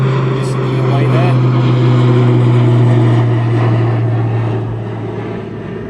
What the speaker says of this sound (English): See the stars as the aircraft goes past.